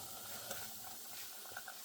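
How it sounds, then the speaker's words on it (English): Soft, steady sizzling of whiting fillets frying in hot oil, a quiet crackling hiss with a few small pops. "Beautiful sizzle."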